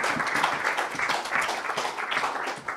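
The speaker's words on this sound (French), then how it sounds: "On vous applaudit et on va passer au troisième candidat." Applause from a jury and audience for a contestant at a thesis presentation competition final, a moderate steady patter of many hands clapping throughout, with no voices standing out.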